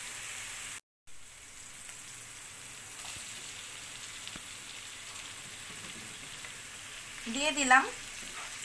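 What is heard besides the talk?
beef tripe frying with spices in pan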